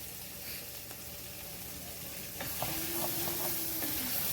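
Cuban picadillo sizzles steadily as it caramelizes on the bottom of a pan, a continuous close frying hiss with some stirring scrapes and a faint hum, no talking.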